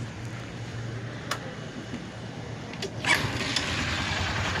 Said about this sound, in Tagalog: Napakaingay na agad ang makina.